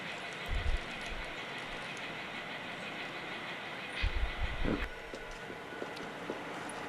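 A model railroad train runs on the Rainier Great Western layout, a faint, steady rumble broken by two soft low thumping bursts and light clicks.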